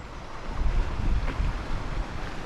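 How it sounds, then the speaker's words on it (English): Water rushes steadily out of a canal lock bywash on the Monmouthshire and Brecon Canal at Llangynidr, a full, roaring outflow with rough surges under gusts of wind. "Quite a lot of water coming out of the bywash there, which suggests to me that the canal is quite full further up."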